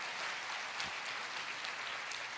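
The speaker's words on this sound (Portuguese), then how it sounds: "Então vamos aplaudir ao Senhor" A church congregation applauds the Lord during a Portuguese-language sermon, with steady, fairly quiet clapping that holds evenly for a couple of seconds.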